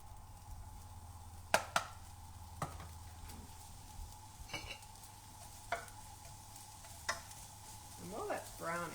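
Half a purple onion frying in olive oil, a steady soft sizzle with occasional knocks and scrapes of stirring, close and fairly quiet, with no talking.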